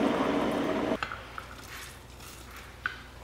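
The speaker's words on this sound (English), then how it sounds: "So I'm gonna make some hot lemon water." Hot lemon water pours into a mug in a kitchen, a brief steady liquid stream that stops abruptly, followed by a few faint clinks and small handling taps, all close and fairly quiet.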